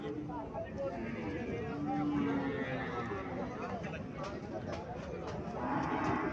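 A local desi dairy cow at a cattle market in Cumilla, Bangladesh, gives low lowing calls amid a constant murmur of crowd voices and market bustle close by.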